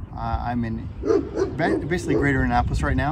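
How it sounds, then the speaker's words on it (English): A dog barks and yips in the background behind someone speaking close to the microphone outdoors near Annapolis, the short barks and whimpers overlapping his continuous talk. "Pardon the dog barking in the background."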